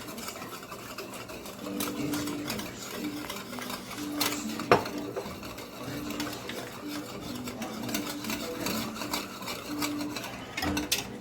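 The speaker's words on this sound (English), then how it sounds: "we're going to whisk that into our pan" A whisk works a mixed batter into a cooking pan, making a soft, continuous scraping and stirring with light metallic clinks and one sharper knock, all fairly quiet and close.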